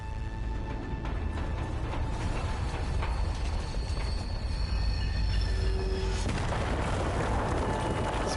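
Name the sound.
train in video game Zombie Army 4: Dead War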